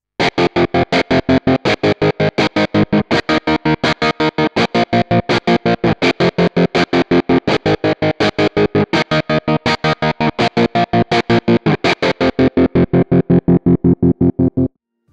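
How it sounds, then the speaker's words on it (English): Electric guitar run through a Nano Cortex tremolo set to a rhythmic, choppy pattern: a loud, steady stream of evenly spaced pulses chopping the sustained chords for about fifteen seconds before stopping abruptly. "It's such a smooth musical tremolo. Great for adding that classic vibe to your tone."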